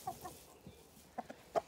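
Hens, including Brahma crosses, cluck in a backyard pen, a few short soft clucks near the start followed by louder clucks close by at the end.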